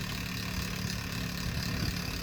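A pulsed electric motor with coils and a magnet rotor, spinning at about 312 RPM, gives a steady, continuous low hum and whir that stays even in level throughout, with no talking.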